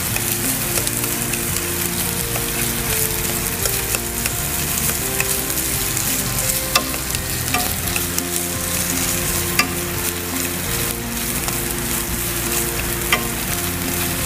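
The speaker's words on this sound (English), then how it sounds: "now I will proceed to add my meat. And cook that until it's all cooked as well" Meat frying in a pan for fried rice, a steady loud sizzle with occasional stirring scrapes running continuously throughout, no voices.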